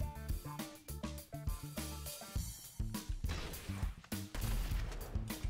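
Rapid, punchy gunfire in GTA V, a string of close, loud shots in uneven bursts with a steady rhythm of sharp cracks, one after another, over low game noise and no talk.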